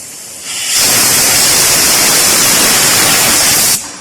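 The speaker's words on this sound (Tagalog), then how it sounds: "Spray some air." Compressed air is sprayed onto a car's transmission connector in a single loud, steady hiss of about three seconds that starts and stops abruptly. It is close to the microphone and no one speaks.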